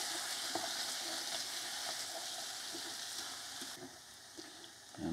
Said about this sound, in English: And you can probably hear it reduce the spitting right down very quickly, because the tomatoes have actually cooled the oil down.